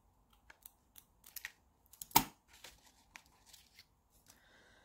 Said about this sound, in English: I'm going to just cut it dead in half.